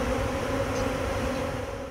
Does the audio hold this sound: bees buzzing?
yes